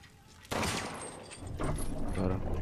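A gunshot in the game Resident Evil Village rings out sharply, followed by a sustained noisy rumble and a second burst.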